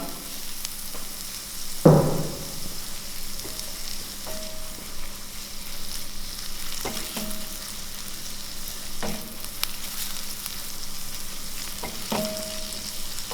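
Onions and garlic fry in a pan with a steady broadband sizzle, broken by a sharp clatter near the start and a few soft utensil knocks and scrapes throughout.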